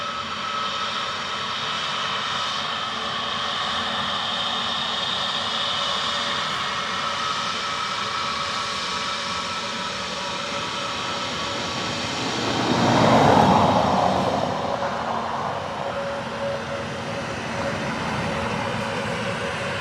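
An aircraft landing on runway 28 left at Dublin Airport gives a continuous engine roar heard from a distance, swelling to a louder rumbling peak about two-thirds through before settling back to a steady drone.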